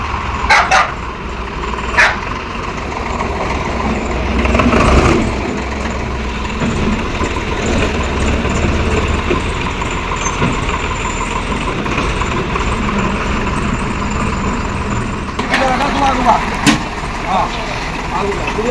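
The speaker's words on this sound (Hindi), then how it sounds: "तो अभी हम लोग ट्रैक्टर पे जा रहे हैं खेतों में।" A tractor engine runs steadily while riding out to the fields, a continuous rumbling drone throughout with scattered knocks and rattles, and voices talking over it at times.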